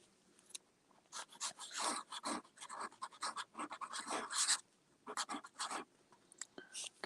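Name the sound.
writing on paper with a Conklin fountain pen nib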